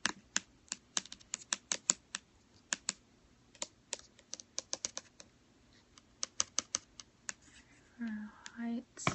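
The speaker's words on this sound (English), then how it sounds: "So I'm going to be over here typing this way, so I'm not ignoring you guys." Close, fast clicking of computer keys in irregular bursts with short pauses, followed by a brief low hum-like sound near the end; no talking is heard.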